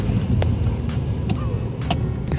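A new Ford Fiesta with a dual-clutch gearbox accelerates, its engine a steady muffled in-cabin drone with intermittent clicks and brief bursts of noise over it, moderately loud.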